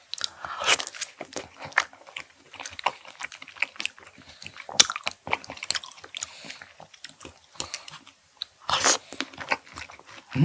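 Juicy melon and strawberries are bitten and chewed up close, with wet crunches and squishes coming in irregular bursts. Quieter moments fall between the bites.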